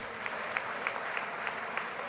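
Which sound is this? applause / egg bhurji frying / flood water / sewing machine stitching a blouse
applause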